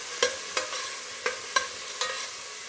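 Curry leaves frying with tomato in a pan for sambar, a steady hiss with several sharp spoon-against-pan taps at irregular intervals, close and fairly loud.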